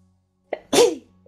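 A single sharp sneeze, close and loud, opening with a quick intake and then a burst, with quiet room tone on either side.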